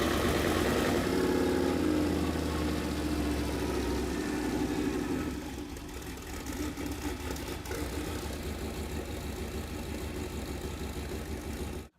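Hot rod engine in a garage, running without its exhaust, fires up and settles into a loud, rough, steady idle close by for about twelve seconds, with no voices over it, then cuts off abruptly at the end.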